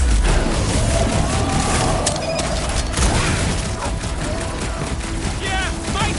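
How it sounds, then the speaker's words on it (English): Heavy weapons fire in the Guardians of the Galaxy video game, a dense, continuous barrage of booms and rattling gunfire with game effects layered throughout, staying loud for the whole stretch. "Time for the big guns."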